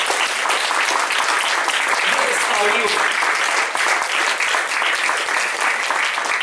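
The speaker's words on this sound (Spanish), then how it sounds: "Démosle un aplauso a nuestro Salvador" A church congregation bursts into sustained, dense applause that fills the whole stretch, steady and loud, while a preacher's voice speaks over it.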